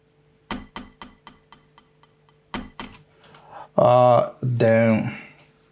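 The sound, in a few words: wood block percussion loop in FL Studio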